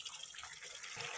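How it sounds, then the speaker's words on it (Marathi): Water poured from a mixer jar into a pan of chicken cooked with onions, a faint, steady liquid splashing and trickling for just over a second, with no voices. "मिक्सरचं भांडं घेऊन पाणी घालायचं आहे"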